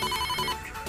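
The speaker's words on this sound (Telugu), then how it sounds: "అరే ఫోన్ వస్తుంది" A mobile phone ringtone plays with a repeating electronic melody, moderately loud and close, for about a second with no talk.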